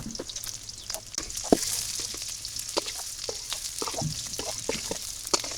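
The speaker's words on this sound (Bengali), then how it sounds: "তেল গরম হয়ে গেছে দিয়ে দিলাম রসুন কুচি পিঁয়াজ কুচি কাঁচামরিচ" Chopped garlic, onion and green chilli sizzle and spit in hot oil in a wok, a dense crackling fry broken by scattered sharp pops and the scrape of stirring, close and continuous.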